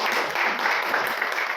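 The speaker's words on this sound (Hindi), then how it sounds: "तो इनके लिए एक बार जोरदार तालियां होनी चाहिए।" Loud, close applause from an audience at a Banaras Hindu University gathering following a university anthem performance, a brief dense burst of clapping.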